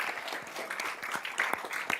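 Brief burst of audience clapping at a county commissioners meeting, a dense patter of many hands, fairly close and steady.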